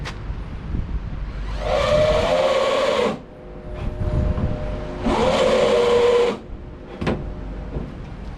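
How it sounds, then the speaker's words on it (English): A drill countersinks holes in aluminum plate for mounting a BMW E36 wing, two separate bursts of whirring cutting each lasting about a second and a half, close and loud, separated by quieter shop noise. "So I'll countersink and then put the bolt in, take this one out, countersink it, and then do the other side."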